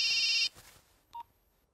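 A telephone rings with a short, bright electronic ring burst, then drops to near silence broken by one brief faint tone. No one speaks.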